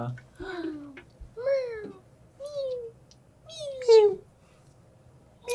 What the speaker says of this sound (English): You can also hear a soft meowing.